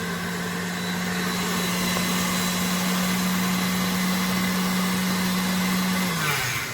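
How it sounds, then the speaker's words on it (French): An electric mixer beats ingredients in a bowl with a steady, loud, continuous motor whir that slows slightly at the very end, with no voices. "vous mettez au batteur"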